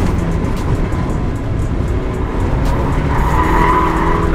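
Roadster on a race track during a track day, car noise running steadily throughout with a rising tire squeal toward the end, close and loud.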